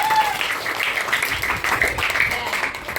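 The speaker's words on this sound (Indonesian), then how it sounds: "beri tepuk tangan dulu untuk kelompok 6" A classroom of young pupils claps for a student group during a religious education lesson, an uneven patter of hands mixed with children's voices and chatter throughout.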